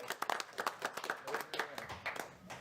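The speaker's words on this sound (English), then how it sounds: "I believe she deserves a round of applause." A small room of colleagues gives a short, scattered round of hand clapping for a retiring coworker at a city commission meeting, claps sparse and uneven rather than a dense roar.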